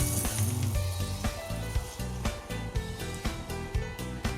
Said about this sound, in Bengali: চলো এরপরে এর মধ্যে দিয়ে দিই আমাদের এই ম্যারিনেট করা চিকেনটাকে।